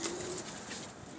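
German Fallah pigeons cooing in soft, low repeated coos, fairly faint and steady, with no voices.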